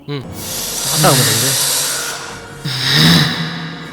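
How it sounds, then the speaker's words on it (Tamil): A snake gives two long, loud breathy hisses, the second after a brief pause, with low voices and background noise underneath. "டேய் பாம்புடா."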